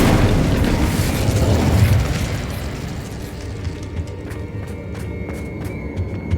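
The Incendio fire spell in Hogwarts Legacy erupts as a loud, roaring blast for about two seconds, then fades into a quieter stretch of crackling flickers and small pops.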